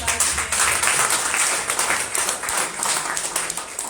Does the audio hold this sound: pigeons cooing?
no